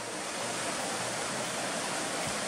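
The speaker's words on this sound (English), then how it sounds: "We're literally right on the river." A river flowing right beside a campsite, a steady, dense rushing wash that fills the whole moment without a break and stays fairly loud and close, with no voices over it.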